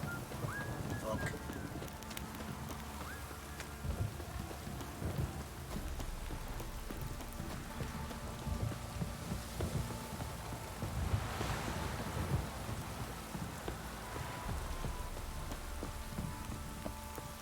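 Steady rain pours down across a dark medieval game setting, a continuous hiss of drops spattering on surfaces with occasional low rumbles and faint clopping, sustained evenly throughout with no pauses.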